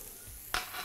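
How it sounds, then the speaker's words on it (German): Aubergine pieces frying in a pan for a vegan rice-cake recipe, a soft steady sizzle with a brief sharp clatter of stirring partway through, close and quiet. "Aubergine ca. auch 4-5 Minuten anbraten."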